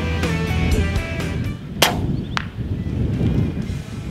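An Air Venturi Avenger airgun fires a sharp crack, followed moments later by a faint distant thud of a 23 grain pellet striking a target at 74 meters, set against wind and outdoor background noise.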